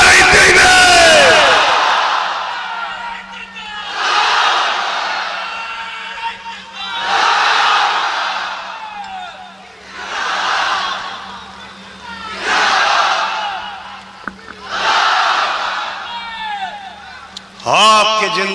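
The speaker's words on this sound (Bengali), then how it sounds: "আরো জোরে বলো নারে তাকবীর" A large rally crowd shouts the Nara-e-Takbir chant in repeated loud bursts, about six roaring waves at a steady rhythm with a low hum beneath, close and powerful.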